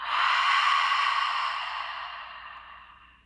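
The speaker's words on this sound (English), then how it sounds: "Take a deep breath out." A long, deep breath out, loud at first and tapering softly over about three seconds, breathy and close with no talking.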